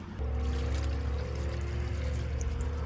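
Coolant pours steadily into a car for about three seconds, a close, continuous glugging stream with a low hum underneath.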